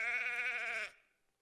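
A single sheep bleats loudly and close by with a wavering tone for nearly a second, then falls silent.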